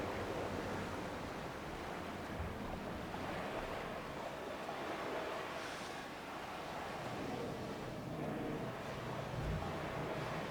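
Steady beach surf washes continuously on an island shore in the game Dear Esther, a soft, even roar of waves with wind, no voices and no distinct breaks.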